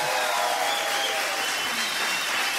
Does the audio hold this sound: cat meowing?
no